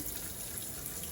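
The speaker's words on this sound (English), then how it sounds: "I'm gonna turn on some hot water first" Hot tap water runs steadily into a sink for rinsing fresh green jalapeños, a continuous close splashing hiss with no pauses or voices.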